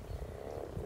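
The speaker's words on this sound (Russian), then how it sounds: "Лягушек много, они урчат." Many frogs croak together in a swamp as a faint, continuous low chorus with no speech.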